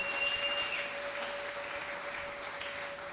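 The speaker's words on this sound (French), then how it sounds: "Acclame pour le Seigneur Jésus." A church congregation applauds during a service, a dense, steady clatter of many hands that sounds somewhat distant and holds evenly throughout without any voices.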